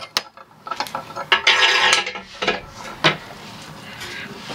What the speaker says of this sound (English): I need two wrenches for this one.